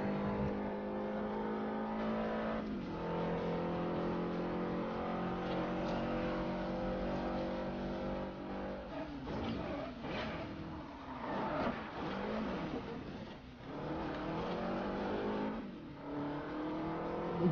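Car accelerating in the Forza Horizon racing game, a continuous engine drone rising in pitch with gear shifts, a brief slide through a bend midway, then revving up again.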